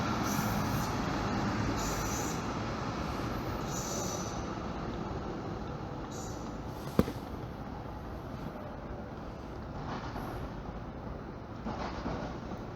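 Broad steady rumble of trains in a rail yard, with a sharp bang near the middle and faint high squeals drifting in and out.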